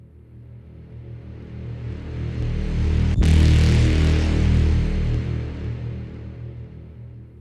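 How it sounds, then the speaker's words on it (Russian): A deep braam synthesized in Serum swells in reverse, snaps at the midpoint, then plays forward as a heavy, droning blast that slowly fades out. "А здесь тоже самодельный такой брам, синтезированный в Serum."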